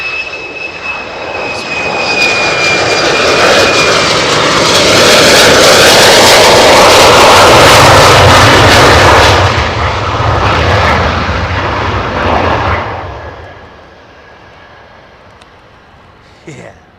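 Low-flying jet aircraft approaching to land at RAF Lakenheath, its engine roar swelling from a distant whine to a loud close rumble, then fading away, while people talk nearby.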